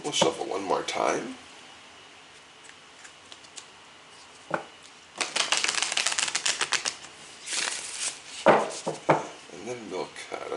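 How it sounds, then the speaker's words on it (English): Tarot cards are riffled and shuffled in several crisp, rapid bursts, with quieter pauses between and a short spoken phrase at the start. "We'll shuffle one more time."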